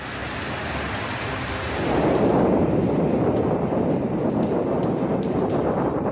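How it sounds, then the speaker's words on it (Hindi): Rough sea churns under cyclone conditions, a loud, continuous roar of crashing waves and surf with wind buffeting the microphone, swelling stronger after the first couple of seconds. "समंदर पूरे उफान पर है।"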